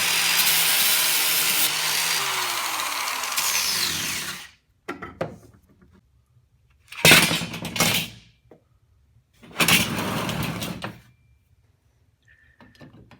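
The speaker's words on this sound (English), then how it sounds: "I started grinding everything, getting everything ready for welding. Just using an 80 grit flap disc right here." An 80 grit flap disc on an angle grinder grinding metal in preparation for welding, a loud steady abrasive whine for about four seconds, then shorter separate bursts of grinding with quiet gaps between them.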